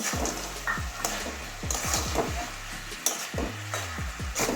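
A curry of flat beans, carrot, potato and fried lentil bori stirred in a pan, a soft sizzle beneath repeated close scraping strokes of a spatula in an irregular rhythm.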